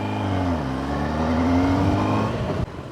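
A Kawasaki ZX10R sport bike accelerating hard on a drive in Meghalaya, engine pitch climbing in a strong, close whine that cuts off abruptly near the end.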